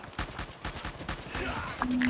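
Shotgun and other gunfire in the Call of Duty Mobile video game, a rapid burst of repeated blasts close up, running continuously with faint background voices.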